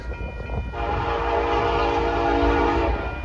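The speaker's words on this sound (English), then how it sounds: "Oh, that sounds like a different horn." Loud, sustained multi-tone air horn from a passing truck at a horn show, blaring steadily for about two seconds over rumbling traffic noise.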